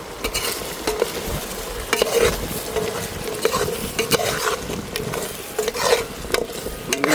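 A pot of cassava and dried fish curry bubbles as a spoon stirs it, with steady sizzling and boiling plus repeated scraping and clinks against the pot, cooked outdoors in a forest.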